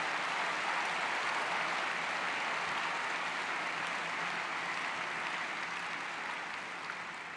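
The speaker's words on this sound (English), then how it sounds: "let's give a round of applause for all the students who are here." A large conference audience at the AIPAC Policy Conference 2015 applauds students in a dense, sustained wash of clapping that holds steady for several seconds before easing slightly.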